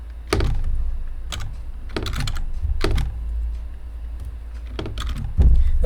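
Code being typed on a computer keyboard: several quick bursts of close, crisp keystrokes separated by short pauses, with steady room hum underneath.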